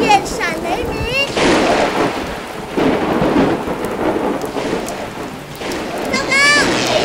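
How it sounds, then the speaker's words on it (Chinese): Loud rolling thunder crashes through a cartoon thunderstorm over steady rain, with childlike voices speaking briefly at the start and again at the end. "天空中乌云密布，电闪雷鸣。"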